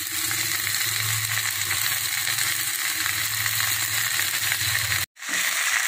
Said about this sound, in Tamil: நல்லா எண்ணெயிலேயே வதக்கி விட்டுக்கலாம்.